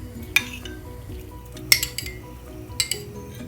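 A spoon stirring sabja seeds in room-temperature water for a carrot, dates and almond smoothie, with a few light clinks of metal against the glass over a soft swirling background.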